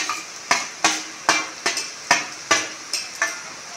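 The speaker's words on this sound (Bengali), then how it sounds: "আলুগুলো দিয়ে ভালো করে নেড়ে চেড়ে নেব।" Fried potatoes are stirred into sizzling masala in a pan for a kabuli chana dish, with steady frying hiss and about nine sharp scraping strokes of the spatula at a regular rhythm, close and clear, no talk.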